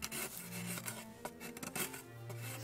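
Hand tool scraping and rasping along a wooden paddle handle, steady rubbing strokes close up with short bursts of sharper rasping, no talk.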